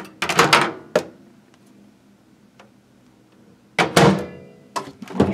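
A hotel room microwave door clicks open with a few quick knocks, then after a quiet pause it's shut again with a firm clunk and a final tap.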